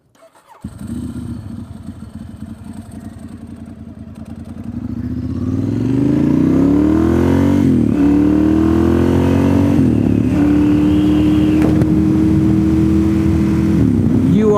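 A motorcycle engine starts, idles with a clattering rumble, then revs up loudly and pulls away, its pitch climbing through several gear changes as it rides off close by.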